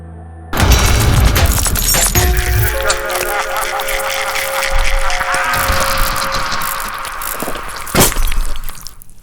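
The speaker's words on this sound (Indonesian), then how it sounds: "Kaca pecah." Glass shatters loudly all at once, and a sustained crackle of breaking pieces follows with another sharp crash near the end, close and harsh.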